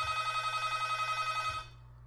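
A telephone ring signal on a phone line gives a steady electronic buzzing ring, loud and close, that stops after about a second and a half, followed by a quiet low hum.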